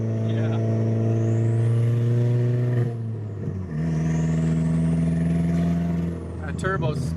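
A 1.8T turbo engine in a VW Passat B5 sends up a loud rising turbo whine over a deep engine drone, building, easing off and then climbing again, with voices close by.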